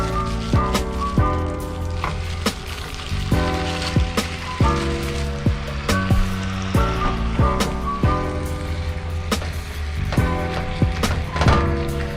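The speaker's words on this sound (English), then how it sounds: "So first, you're gonna add some oil to your pan. You're gonna add your meat." Meat fries in hot oil in a pan, a constant loud close sizzle with scattered sharper pops and spatters throughout, and no one talking.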